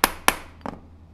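A hammer strikes a leather-cutting punch tool twice in quick succession, two sharp close knocks, followed by a softer third tap in a quiet workshop.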